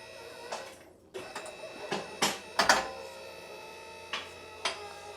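A car lift raises an Audi RS6 C8 in a garage, with a steady mechanical hum broken by a series of sharp metallic clicks and clunks from the locking mechanism.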